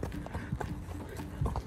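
Horse hooves clip-clop at a steady walking rhythm during a ranch ride, close and moderately loud over outdoor ambience.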